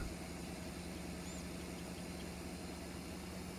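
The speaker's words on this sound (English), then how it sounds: "Shut down the tractor." A farm tractor idles after planting in Iowa, a steady, even engine rumble with constant vibration. It continues unbroken and sounds close, with no voices over it.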